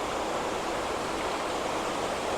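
Steady rushing water, like a stream or small fall, flows beside a house in Norway, a continuous broadband hiss that stays even and close throughout with no voices.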